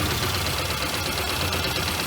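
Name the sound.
Volvo 240 engine running with a bad misfire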